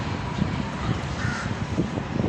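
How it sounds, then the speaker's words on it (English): A crow caws repeatedly in a busy downtown, the harsh calls sitting over a constant dense rumble of city noise. "So there's the crow, our companion animals."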